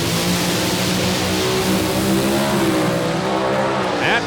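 A drag racing car making a pass at a Lucas Oil Drag Racing event roars loudly and continuously, its engine tone shifting as it runs down the strip, with no voices over it.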